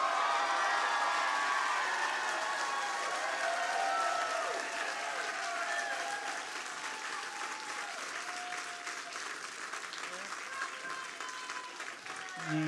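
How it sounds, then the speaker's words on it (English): Steady applause from a comedy club audience fills the whole stretch, dense and continuous, tapering a little toward the end, with no voices on top. "Don't applaud because I did my goddamn job."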